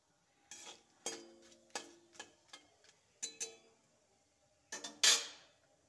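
Whole cumin, dried chilli and bay leaves in hot oil, stirred in a pan, with a spaced series of sharp clinks and taps from the spatula against the vessel, a faint sizzle beneath and a louder scrape near the end.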